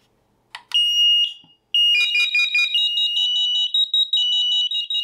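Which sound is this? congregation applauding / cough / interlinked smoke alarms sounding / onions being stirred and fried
interlinked smoke alarms sounding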